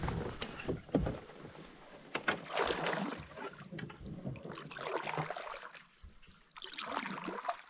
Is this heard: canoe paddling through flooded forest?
yes